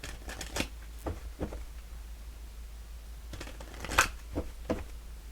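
Tarot cards being shuffled before a card is pulled, heard as a few soft, close riffling and slapping bursts spread across a quiet stretch.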